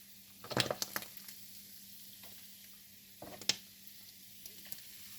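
Fish frying in hot oil, a quiet steady sizzle with a few louder crackling bursts near the start and again midway as pieces are moved or added.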